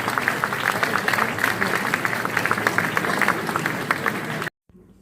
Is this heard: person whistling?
no